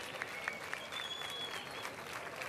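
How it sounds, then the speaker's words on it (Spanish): Audience applause at a motor awards ceremony in Jerez, a steady wash of clapping from a room of people, moderately loud and continuous with no talk over it. "Aplauso para ella."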